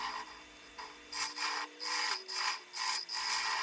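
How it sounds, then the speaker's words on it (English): A wooden bowl is hollowed out on a lathe, making rhythmic rasping scrapes as the tool cuts into the spinning wood, several close bursts repeating about every half second over a faint motor hum. "now I'm just going to hollow out the top half and blend it into the bottom half"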